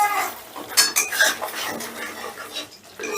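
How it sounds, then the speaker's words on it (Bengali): Spatula scraping and clinking against a pan as spice masala is stirred and fried for a moong dal bora curry, with repeated scrapes and faint sizzling close by throughout. "এবারে মশলাটাকে আমি বেশ ভালো করে কষে নেব।"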